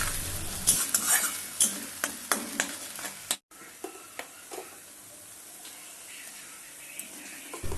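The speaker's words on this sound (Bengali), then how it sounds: "পেঁয়াজটা লাল করে ভেজে নিয়েছিলাম আর এর মধ্যে দিয়ে দিলাম আদা রসুন শুকনো লঙ্কার পেস্ট" Onion fried until red, mixed with a paste of ginger, garlic and dried chilli, sizzles in a pan while a utensil scrapes and stirs it in bursts, loud at first, then a brief break followed by a quieter sizzle.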